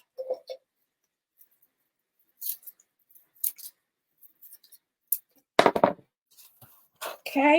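Scissors trim small leftover pieces from a ribbon bow on a Dollar Tree wood-panel craft, making a few sparse, close, crisp snips separated by quiet gaps, with a brief spoken word near the end.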